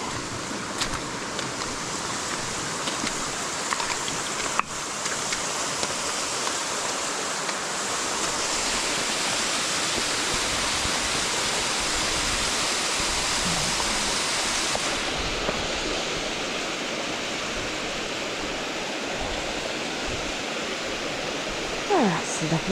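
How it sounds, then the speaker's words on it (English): A waterfall on the Alpe Stazzona hike above Lake Como roars in a steady, loud broadband rush of falling water, constant throughout with a few faint clicks and handling noises near the microphone. "Here we are at the waterfall."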